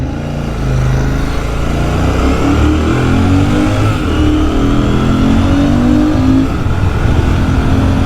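A Royal Enfield motorcycle, either a Shotgun 650 or a Hunter 350, pulls hard from a standstill toward sixty, its engine note climbing steadily through the gears, loud and close with no voices.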